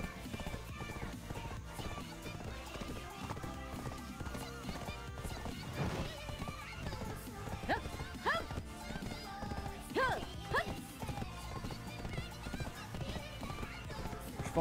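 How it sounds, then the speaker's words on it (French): Rhythmic hoofbeats of a horse galloping in the online game Black Desert Online, steady clip-clop under background music with a few whinnies in the middle; someone talks over it. "Allez mon cheval tout terrain."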